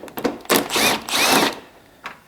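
A Milwaukee power tool whirs in two strong bursts while backing out a 10mm bolt holding a first-generation Toyota Tundra headlight, close and loud, with a small brief buzz trailing after.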